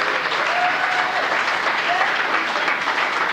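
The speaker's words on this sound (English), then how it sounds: "He should have a round of applause because he'd arranged all of it" A short stretch of audience applause for a band's staff arranger, a steady wash of clapping heard moderately close.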